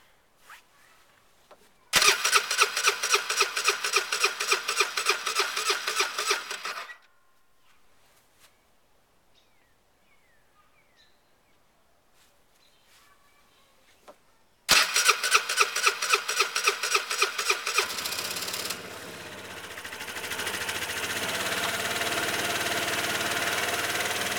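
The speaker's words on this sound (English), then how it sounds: "Don't crank it too long, burn up your starter." A Vespa ET4 150cc scooter cranks with a rapid rhythmic starter chatter for several seconds, goes quiet, then cranks again and catches into a steady idle, heard close up.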